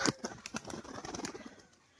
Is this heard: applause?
no